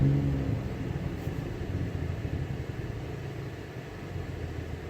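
A 1993 Ford Escape engine idles rough with a cylinder 3 misfire, giving a steady low rumble with an uneven, stumbling pulse that holds close and fairly loud throughout, with no voices.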